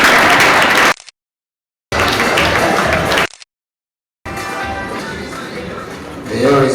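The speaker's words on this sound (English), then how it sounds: "People, please be happy for me and clap for me." Bursts of audience clapping at a banking and finance institute graduation ceremony, cut by two abrupt silent gaps, with a voice rising at the end.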